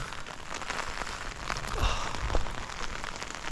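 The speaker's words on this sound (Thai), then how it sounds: "ดูบรรยากาศ ฝนตกที่นี่เป็นยังไงบ้างนะครับ" Steady early-morning rain pattering on a hard surface, a dense continuous hiss with scattered louder drops, no voices.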